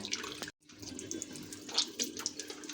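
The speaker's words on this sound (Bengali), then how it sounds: "কি কষ্ট করে মুখটা ধুচ্ছে" Tap water runs into a sink while a face is washed, a close, continuous splashing stream broken by one brief silent gap, with no voices.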